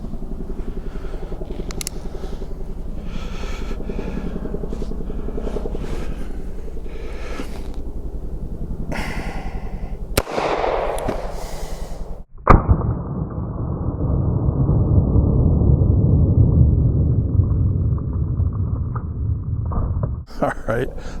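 A Beretta Model 1934 .380 pistol fires at a 1-liter plastic bottle from 7 yards: two sharp, loud shots close together mid-clip and another near the end, over rumbling background noise with people talking.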